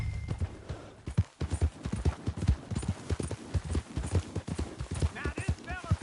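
Horse hooves clip-clop in a steady, close rhythm while riding toward Blackwater in Red Dead Redemption 2, with a voice talking over the hoofbeats at points.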